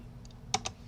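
Brief typing on a computer keyboard while entering a Linux command: a few soft, close key clicks, two light taps followed by two sharper strikes, over quiet room hiss.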